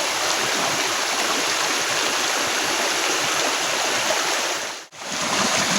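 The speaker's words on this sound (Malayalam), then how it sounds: "നല്ല തണുത്ത വെള്ളം ഒഴുകി ഒഴുകി വരുന്നുണ്ട്" Cold water streaming steadily over rocks at the Adakode Chola waterfalls, a continuous broadband rush with a brief dip near the end, no voices.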